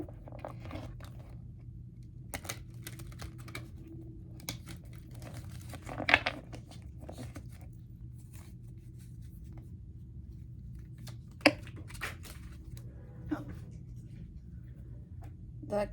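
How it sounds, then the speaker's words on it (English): Tarot cards are shuffled up close in quiet, irregular bursts of soft riffling, slapping and crisp snaps against a faint low hum. "let's do one more shuffle and pull a final card from here"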